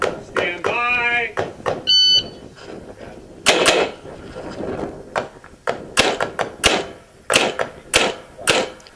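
Gunshots at a sectional pistol shooting championship: a series of sharp, loud cracks spaced irregularly, some in quick pairs, close to the shooter, alongside electronic timer beeps, a brief commentary voice and range noise.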